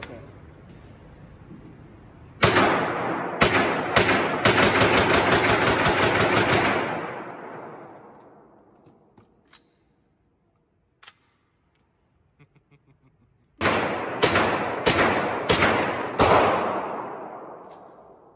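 An MP5 clone fires at a shooting range in two loud, rapid bursts of sharp cracks with ringing decay, separated by a quiet pause with a few faint clicks, outdoors.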